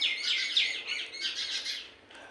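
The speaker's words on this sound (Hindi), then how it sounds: "अभी ये घुसपैठ कर रही है यहाँ पर गौरैया" House sparrows chirp in a garden, a quick run of bright, high tweets close by, repeating rapidly and fading slightly toward the end, with no voices.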